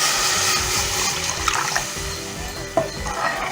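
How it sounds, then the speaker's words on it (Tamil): Tamarind water poured into a pan of neem flower rasam, a continuous splashing pour with a couple of small knocks partway through. "இப்போ புளி தண்ணி சேர்த்துக்கலாம்."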